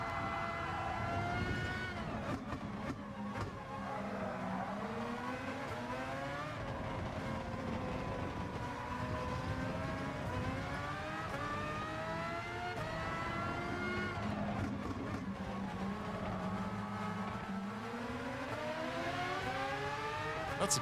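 Race car engine in GT Sport lapping Interlagos, loud and continuous, revving up through the gears with rising pitch sweeps and brief dips at each short shift, steady throughout.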